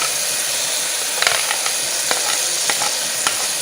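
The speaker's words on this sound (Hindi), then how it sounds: "अब खूब अच्छी तरह इसको 3 से 4 मिनट भून लेंगे।" Mashed brinjal bharta (baingan) fries in a pan under a dense steady sizzle, with scattered scraping and tapping as a spoon stirs it.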